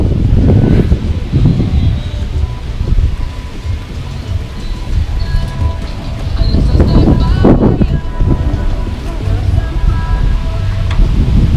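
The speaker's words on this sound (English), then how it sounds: "it must be really windy right now." Strong gusts buffet the microphone outdoors on a street walk in Merida, Mexico, with heavy low rumbling surges rising and falling across the whole stretch.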